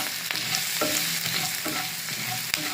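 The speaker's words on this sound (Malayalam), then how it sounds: "അത് കഴിഞ്ഞ് നമുക്ക് കുറച്ച് മുളക് പൊടി ഇട്ടിട്ട് നമുക്ക് നന്നായിട്ടൊന്ന് ഇളക്കാം." Chilli powder, turmeric and spices are stirred in a frying pan for a snake gourd and carrot thoran, with steady frying sizzle and repeated quick scraping strokes of a spatula, close up.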